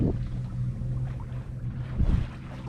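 A boat under sail on open water off New England, with steady low wind and water rush close to the microphone and a brief louder swell of splashing near the end.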